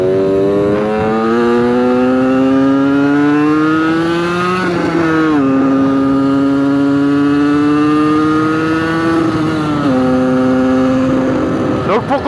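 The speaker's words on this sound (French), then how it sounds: "Quand j'ouvre les gaz, elle répond présent quand même." A motorcycle engine revs as the throttle is opened, its pitch climbing steadily in loud, close sweeps that drop between gear changes, with someone talking briefly over it.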